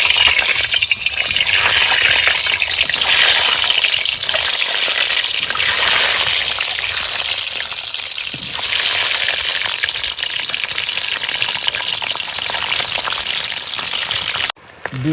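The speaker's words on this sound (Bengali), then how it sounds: "তেল গরম হয়ে গেছে এবার ডিমটাকে ভেজে নেবো" An egg frying in hot oil in a pan, a loud, close, continuous sizzle with crackling bursts, steady for the whole stretch before a brief dip near the end.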